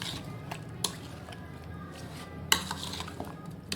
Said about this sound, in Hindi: और इसको मैं अब अच्छी तरह से मिक्स करूँगी।